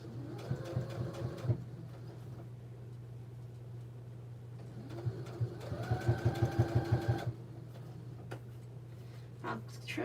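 Sewing machine stitching a reversible tote bag, running in two bursts of rapid, even needle chatter with a steady motor hum underneath, close and fairly loud, pausing briefly between passes.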